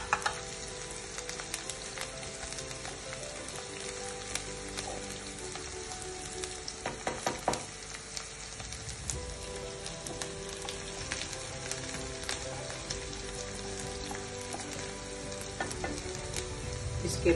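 Chopped onions and green chillies fry in a pan for baingan bharta, with a dense, steady crackling sizzle and occasional stirring scrapes, close and without any talk.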